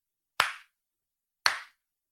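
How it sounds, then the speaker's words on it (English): One person claps twice, two sharp, close, distinct claps about a second apart with silence around them. "Mike is clapping."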